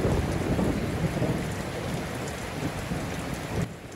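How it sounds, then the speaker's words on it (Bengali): Heavy rain falls without a break during a late monsoon storm, a dense and continuous wash of rain noise with deep thunder-like rumbling underneath, moderately loud and with no voices. "এভাবে এক নাগাড়ে বৃষ্টি পড়তে থাকে, নদীতে পানি ভরপুর হয়ে ওঠে"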